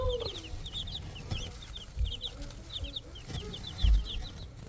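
Baby chicks in a nesting box chirp in quick, high, repeated peeps throughout, near and steady, with a few soft bumps and rustles underneath.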